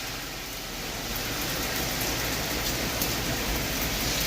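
Hard, steady downpour in a city centre during a thunderstorm, a dense continuous hiss of rain on surfaces that holds level and close throughout, with faint low traffic rumble underneath and no voices.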